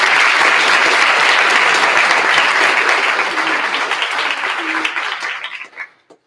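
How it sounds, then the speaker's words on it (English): Audience applause at a school Senior Blazer Day ceremony, loud sustained clapping from a crowd that thins and fades to silence near the end. "Give her a round of applause."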